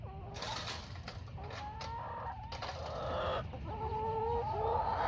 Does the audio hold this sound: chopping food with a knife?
no